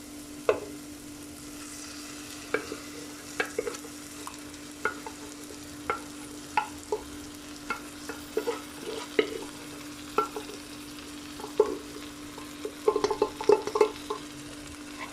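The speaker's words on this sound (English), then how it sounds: "while you're stirring it, you can also mash it a little bit" Boiled vegetables for pav bhaji being stirred and mashed in a frying pan, with repeated soft scraping and tapping strokes of a utensil over a faint, low sizzle.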